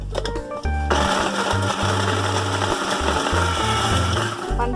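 A blender whirs loudly and steadily, pulsing as it chops garlic, chili and fried mushrooms, with no one talking.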